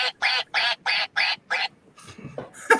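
A toy duck gives six quick, evenly spaced quacks, loud and close, followed by softer scattered noises.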